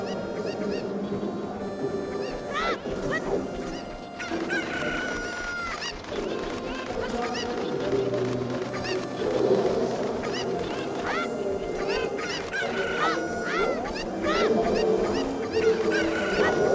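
Chickens squawk and cluck repeatedly in a video game as they flee and are struck with a sword, a busy stream of bird calls over steady background sound, with voices audible underneath.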